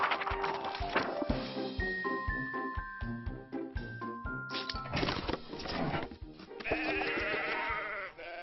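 Sheep bleat repeatedly in an animated cartoon over bright, tinkling music and chimes, the calls rising and falling across a busy, playful soundtrack.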